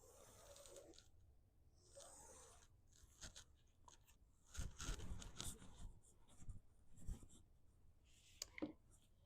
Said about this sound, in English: you're going to draw a line from one corner to the other